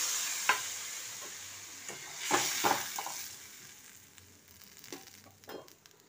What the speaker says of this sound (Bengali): তেল ছেড়ে এসছে, এবার এতে দিয়ে দিলাম জল।